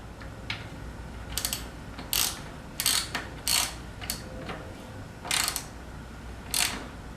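A ratchet tightens a wheel on a discarded bicycle, heard as several short bursts of quick clicking separated by pauses, close up and with no talking.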